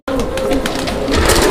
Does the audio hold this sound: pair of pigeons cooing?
yes